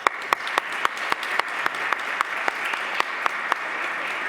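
Applause in Estonia's parliament chamber during a 2013 Model European Parliament session after a speech, with a fairly loud wash of clapping and distinct, evenly spaced claps that set a steady rhythm.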